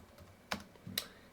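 Two crisp keystrokes clack on a computer keyboard while a Linux chmod command is typed, close and isolated against quiet room tone.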